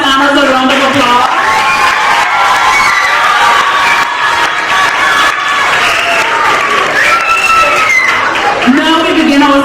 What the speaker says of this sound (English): first class honors a round of applause